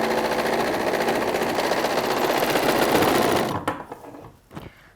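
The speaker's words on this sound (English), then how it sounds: "All I'm going to do is sew straight down where we just pinned" An overlock sewing machine runs steadily along a trouser seam, a close, continuous rapid whirring for most of the time before it slows and stops, followed by a couple of faint handling knocks.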